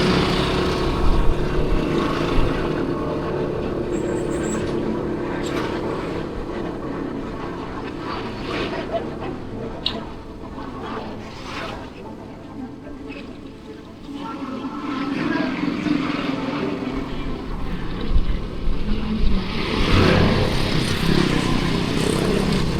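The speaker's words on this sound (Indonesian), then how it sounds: "suara kendaraan sekitar juga terdengar dengan jelas" Surrounding road traffic captured on a DJI Osmo Action 5 Pro while riding, a continuous rumble of passing motorbikes and cars that swells and fades, with a voice talking over part of it.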